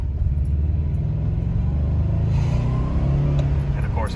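A Subaru B4 with a newly installed muffler accelerates hard in second gear. Its engine drones loud and close in a steady rising rumble, with no gap, for about four seconds.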